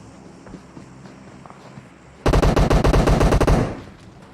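Video game gunfire from a match in which one team shoots at another as they try to flank it: a loud, close burst of rapid automatic fire lasting over a second, preceded by quiet background and fading briefly afterward.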